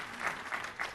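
Conference keynote audience applauding, a steady wash of clapping with three brief swells, fairly faint and without talk.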